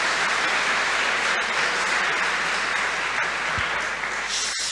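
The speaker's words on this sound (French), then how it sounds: "Alors un applaudissement pour Katia et Isabelle." A large audience at a church talk gives sustained applause, a dense, loud and continuous roar of clapping that holds steady throughout.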